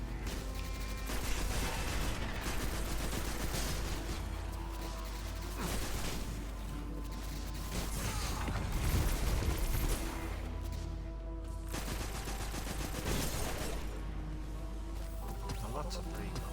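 Bursts of weapon fire in Destiny 2, rapid clattering shots that come in clusters separated by short gaps, set against a dense game soundscape.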